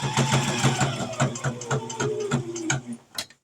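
A sewing machine runs a back stitch, its needle thumping in a fast, regular rhythm that slows and stutters briefly toward the end, loud and close.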